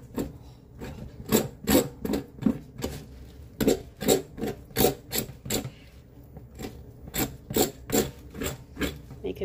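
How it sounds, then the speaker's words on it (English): A knife scrapes the inside of a skinned, cleaned armadillo shell. The rasping strokes come close and steady in a regular rhythm, about two a second, with a short pause midway and no talk. "It does a really good job with scraping sorts of tasks,"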